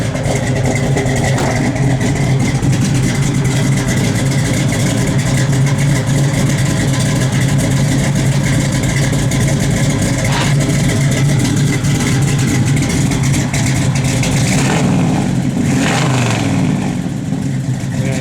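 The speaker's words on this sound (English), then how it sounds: "That's how a big block should sound." A 1967 Chevrolet Chevelle SS big-block V8 runs loud and steady with a deep rumble, with a couple of throttle blips swelling its growl near the end.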